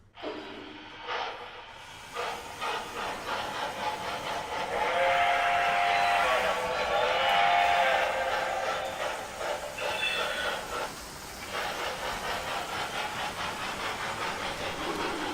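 Model steam locomotive with a Steam Sounds sound-equipped tender on a home layout, giving a sustained whistle and chuffing steam sound, moderately loud and steady, with no talk over it.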